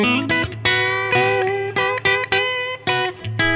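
An electric guitar played through the first channel of a Diezel Schmitt amp with its built-in reverb and no other effects, rapid picked single notes and short phrases with harmonic-rich tone and brief gaps, loud and close.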